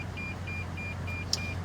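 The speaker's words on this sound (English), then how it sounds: "So, sorry about the beeping." Repeated electronic beeping in a quiet setting, probably from a car. Short, evenly spaced tones sound over a low steady hum, with one brighter chirp near the end.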